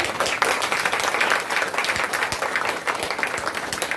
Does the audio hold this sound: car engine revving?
no